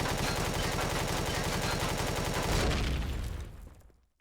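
Rapid, dense gunfire rattles loudly and continuously at a turret in the Empyrion Galactic Survival video game, then fades into a final boom and dies away; no talk.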